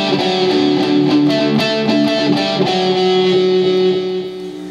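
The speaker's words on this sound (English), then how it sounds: "we're going to go ahead and just learn how to play the main lead riff" An electric guitar plays the lead riff of My Soul Longs For You, a loud run of picked, slightly distorted notes in steady rhythm, with no talking, fading toward the end.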